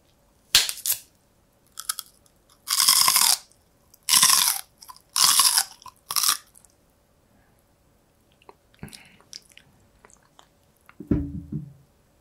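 Crunchy food dipped in mayonnaise is bitten and chewed close up: several loud, crisp crunching bursts in irregular rhythm separated by quiet pauses, then fainter clicks and a soft squishy chew near the end, with no talking.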